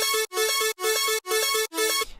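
A brass-sound synth arpeggio plays five evenly spaced, bright brassy pulses in a steady rhythm, each cut off sharply, ending with a short fading tail.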